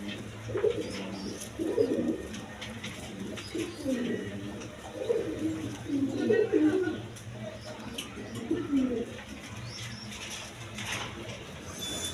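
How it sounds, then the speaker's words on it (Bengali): A pair of racer pigeons coo in bursts, soft repeated throaty calls spread across the span at close range, over a low steady background hum. "এখানে এক পেয়ার রেশার কবুতর আছে"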